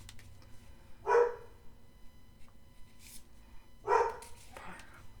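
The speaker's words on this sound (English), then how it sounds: "Pardon the dog." A dog gives two separate barks a few seconds apart in a quiet indoor room while birthday cards are being made, with faint rustling of paper between them.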